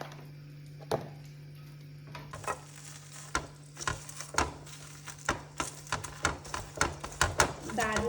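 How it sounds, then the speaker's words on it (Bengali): Chillies being mashed with salt in a home kitchen: repeated sharp pounding and scraping strokes that speed up and grow louder over time, against a steady low hum. "একটু নুন দিয়ে লঙ্কাগুলোকে ভর্তা করে নেব।"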